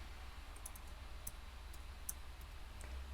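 Faint, scattered keyboard clicks come from someone typing code in RStudio, with quiet irregular keystrokes over a low hum and no speech.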